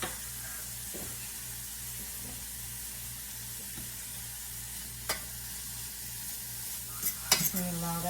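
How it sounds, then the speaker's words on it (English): Vegetables sautéing in a pan for a vegan omelette, sweating and beginning to caramelize, with a soft steady sizzle close by and a few sharper clinks of utensils near the end, no talking. "And allow that to saute up."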